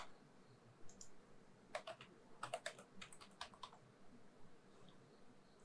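Password keystrokes tapped on a computer keyboard during an Ubuntu install, arriving as a few quick bursts of clicks over faint room hiss, fairly quiet and close.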